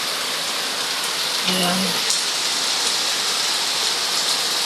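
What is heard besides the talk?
rain falling during a typhoon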